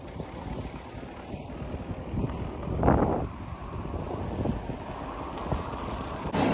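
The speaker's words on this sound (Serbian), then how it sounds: "dosta duva vetar, da se ne razbolim još" Strong wind rushes and buffets a microphone while riding a bicycle on an open road, a low rumbling roar with gusty surges, one loud blast near the middle, and no talking.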